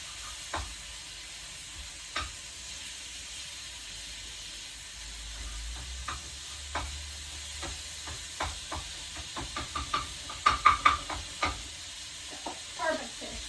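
Fish frying in a pan is stirred, giving a steady sizzle with scattered scraping and clinking clicks that grow denser and louder toward the end, with no talk.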